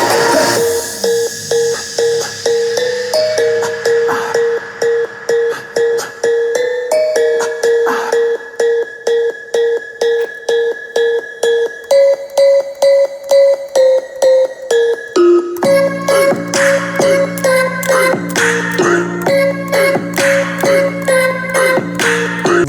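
A DJ toneplay transition built from hot cue tones, taken from a song's outro: a steady run of short pitched tones forms a melody over a rapid pulse, then shifts to a denser, lower-anchored pattern partway through.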